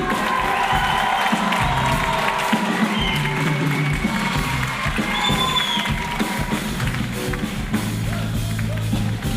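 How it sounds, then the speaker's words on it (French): An audience at a staged youth show applauds and cheers a drummer, a dense wash of clapping and shouts that holds steady throughout at close range, with no speech over it. "Je vous demande un tonnerre d'applaudissements pour Camille à la batterie."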